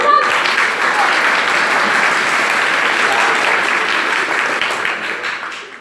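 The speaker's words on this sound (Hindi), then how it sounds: "प्लीज आप ताली बजा दीजिए।" A crowd at a school event claps steadily for several seconds, a dense and loud wash of applause that gradually fades toward the end.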